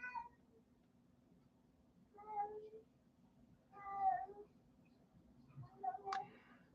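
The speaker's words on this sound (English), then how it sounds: "That's our cat." A pet cat meows three or four times in a quiet indoor room, short separate calls spaced a second or two apart, soft and fairly close, with a faint steady hum underneath.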